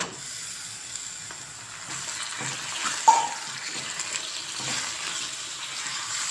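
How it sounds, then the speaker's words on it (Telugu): Half a kilo of chicken pieces sizzle and crackle in a hot pan, a soft steady frying hiss with a few sharper pops, close by and without talk. "దీంట్లో వాటర్ అంతా బయటకు వచ్చేసే వరకు మంచిగా వేగనివ్వాలి చికెన్ అయితేనే"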